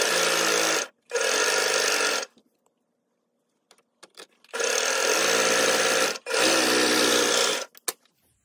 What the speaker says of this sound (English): And then we are going to sew along this edge.